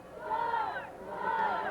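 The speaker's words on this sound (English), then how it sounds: "As the Los Altos crowd comes alive, chanting." A Los Altos high school football crowd at a 1986 game chants in two rising-and-falling waves, with massed voices heard from a distance.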